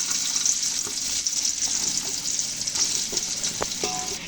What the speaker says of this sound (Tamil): இதே எண்ணெயில் வெட்டி வச்ச வெங்காயத்தை போட்டுக்கலாம்